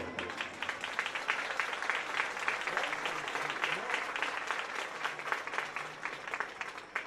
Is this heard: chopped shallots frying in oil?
no